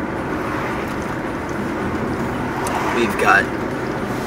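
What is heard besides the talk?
car driving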